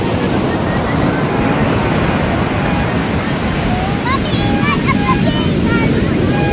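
Heavy surf roars steadily along the shore of San Juan, La Union, in a continuous wash of breaking waves, with faint voices or chirps drifting in near the end.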